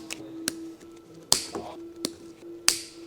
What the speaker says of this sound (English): Use diagonal cutters to trim the excess zip ties.